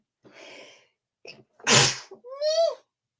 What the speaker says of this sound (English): Oh, I hate sneezing.